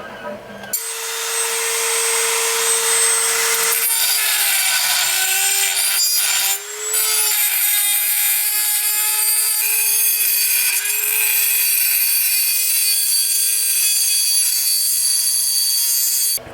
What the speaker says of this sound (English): Now we're going to use the Dremel with this cutting bit